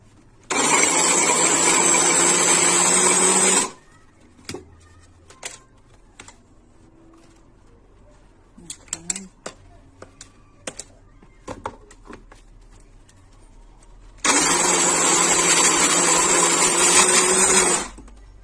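An electric food chopper whirs loudly while chopping hot peppers for a sauce, two steady bursts of roughly three seconds each, separated by quiet clicks and handling noises.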